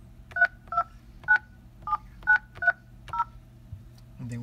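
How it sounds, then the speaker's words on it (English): Touch-tone dialing on a Cisco SPA504G desk phone: seven short DTMF beeps in an uneven sequence, then a fainter eighth tone, with a soft thud or rustle at the end. "so we're going to dial the number"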